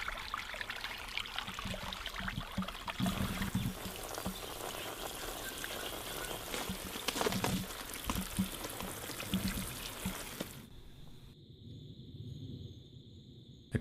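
Leftover bath water pours and splashes steadily onto a garden for about ten seconds with a continuous rushing trickle, then stops, leaving a quiet background with a thin steady tone.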